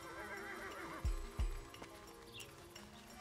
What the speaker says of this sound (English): I hate horses, Billy.